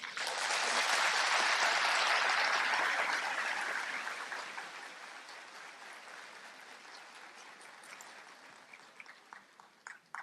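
An audience at a talk on Spiritism in Brazil breaks into loud, dense applause that peaks early, then gradually thins out to scattered, fading claps near the end.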